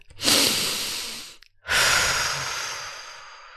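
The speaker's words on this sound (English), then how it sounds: "first, we breathe" Two deep breaths, a long slow inhale-exhale followed after a short gap by another, close and breathy with a soft rushing hiss.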